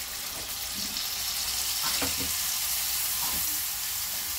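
Chicken jalfrezi keeps up a steady, loud pan sizzle while half a cup of water is poured in, with a few brief clatters and stirring noises over the constant hiss.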